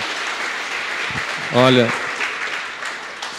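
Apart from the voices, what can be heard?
congregation applause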